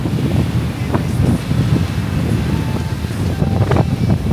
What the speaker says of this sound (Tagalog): Sobrang hangin ngayon. Grabe.